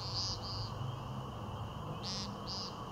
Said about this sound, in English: video by Bath Park board member John Landis capturing the peent of the woodcock.